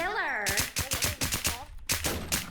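Gunfire in the video game RedDeadZ, a quick run of rapid shots in short bursts, mixed with an excited voice shouting over it.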